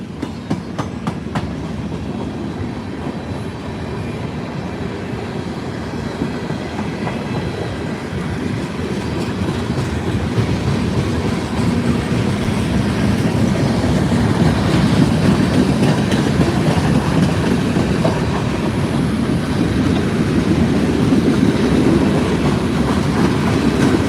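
A long train rolls steadily past a railroad crossing at night in Plant City, Florida, with a continuous loud rumble and rhythmic wheel clatter that slowly builds. No one speaks over it.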